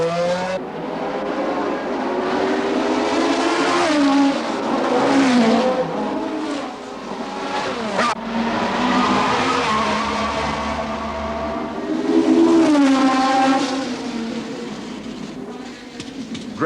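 Formula 1 race cars at the 1969 Monaco Grand Prix, their engines rising and falling in pitch as they rev and pass, loud and continuous for the whole stretch, with no talk.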